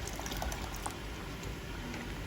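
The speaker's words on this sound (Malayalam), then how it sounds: "നേരത്തെ കുതിർത്ത് വെച്ച 50 ഗ്രാം അണ്ടിപ്പരിപ്പ് മിക്സിയിൽ നല്ലതുപോലെ അരച്ച് പേസ്റ്റ് പോലെയാക്കിയിട്ട് ഇതിലേക്ക് ചേർത്ത് കൊടുക്കുകയാണ്." Cashew paste, made from 50 g of soaked cashews ground in a mixer, poured into a cooking pan on low flame for butter paneer masala, giving a soft, steady wet pour and trickle that continues throughout.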